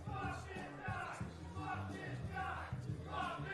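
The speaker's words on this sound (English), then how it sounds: "you could hear our capacity crowd here and what they think of our current 880 champion" Capacity crowd at an 880 Wrestling arena show reacting loudly, a dense roar of shouting and jeering voices that swells and surges continuously throughout.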